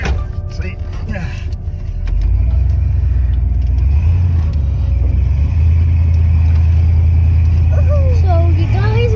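An old 1993 Ford F150 pickup's engine runs with a loud, steady low rumble that builds after a couple of seconds, while people talk nearby.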